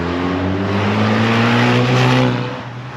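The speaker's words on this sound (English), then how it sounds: "Oh, we got a Ecoboost coming by." A Ford Mustang EcoBoost with a muffler delete drives by, its loud, raspy engine drone swelling as it nears and then easing off as it moves away.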